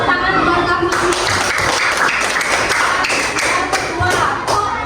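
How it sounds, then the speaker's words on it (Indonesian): Primary-school children in a classroom clap their hands for a classmate, a loose burst of claps with scattered taps and thumps, fairly close, with some talking mixed in. "Kalau tepuk tangan buat kamu."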